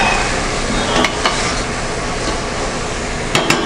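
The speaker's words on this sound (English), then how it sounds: "I'm going to work these celery, onions, and carrots just a little bit for a little while" Celery, onions and carrots sautéing in a pan, a steady close sizzle and frying hiss with a few light clinks of utensil against the pan.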